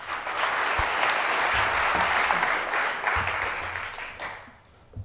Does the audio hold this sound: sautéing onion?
no